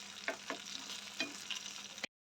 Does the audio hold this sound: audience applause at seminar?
no